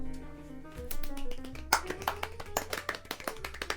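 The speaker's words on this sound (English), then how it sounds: "Pretty sure people clap after Vows." Scattered handclaps from wedding guests after the couple's vows, several loose claps building after a quiet tonal start, with steady sustained tones running underneath.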